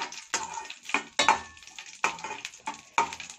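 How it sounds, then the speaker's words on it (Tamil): Cashew nuts roast golden in a pan, stirred with a spoon that scrapes and taps the metal in a slow rhythm of about six strokes over a soft background sizzle. "இந்த முந்திரி பருப்பு நம்ம நல்லா கோல்டன் கலர்ல நல்லா வறுத்து எடுத்துக்கலாம்."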